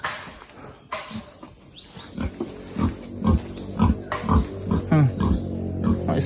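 Pigs on a farm in the Philippines grunt and snort in short irregular bursts, close by, over a background of insect buzz.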